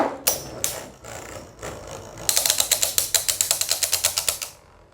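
Astral Spriggan and Cyclone Belial Beyblade tops clash in a plastic stadium, a few scattered hits giving way to a rapid, regular string of sharp clacks over a constant whirring rattle.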